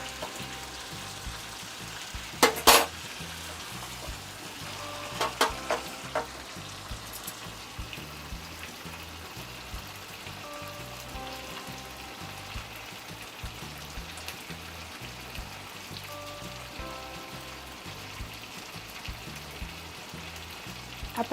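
Chicken tandoori pieces pan-roast in oil on both sides, giving a soft, steady crackle and patter like light rain, fairly quiet and continuous, with a few sharper clicks and knocks early on and no talking.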